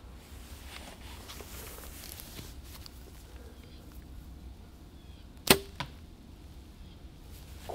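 Hunting arrow loosed from a bow on a practice range: a single sharp, short snap of release with a faint follow-up thud, heard over steady outdoor background noise.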